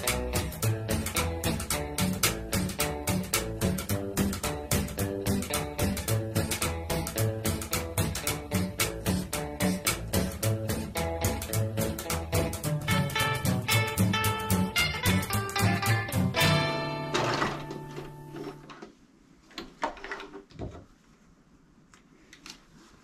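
A sewing machine stitches a pink fabric band around a 1940s-style garrison hat. The needle runs at a rapid, steady pace for about sixteen seconds, then stops, leaving faint handling noises.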